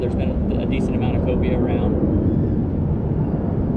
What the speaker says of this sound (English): We've got a plane's taken off.